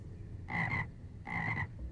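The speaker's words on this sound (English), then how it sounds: "There's a pond frog" Pond frog pet in the Lord of the Rings Online video game croaking twice, two short throaty croaks close by over quiet game ambience.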